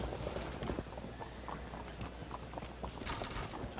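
Horses clip-clopping across the field in the strategy game Field of Glory 2, a steady cluttered patter of hooves under continuous background battle noise, with no speech.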